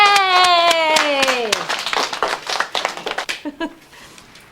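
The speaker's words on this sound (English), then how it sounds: "Let's stand and give them a big round of applause." A small group claps after a contest result, scattered uneven hand claps growing and then thinning out, heard over a long bright cheer and other lively voices near the start.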